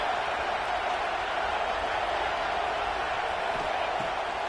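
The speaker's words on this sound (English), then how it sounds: "This crowd bringing the energy and noise early." Stadium crowd noise from an NCAA 26 college football game, USC at Florida State, a steady dense roar of cheering throughout, with no breaks or distinct voices standing out.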